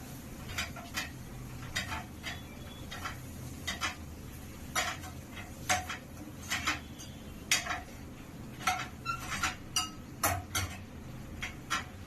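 Mint and coriander being stirred into food in a bowl, heard as a series of close, sharp clinks and taps of a spoon against the dish, repeating irregularly over a soft background hiss with no speech.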